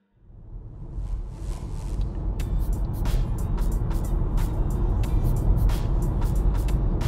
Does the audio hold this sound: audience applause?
no